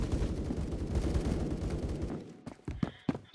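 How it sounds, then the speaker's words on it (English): Sniper fire in the Roblox game Phantom Forces, a dense burst of game noise giving way to a few sharp, separated shots near the end, loud and close with no voices over it. "Holy shoot, someone's sniping from above"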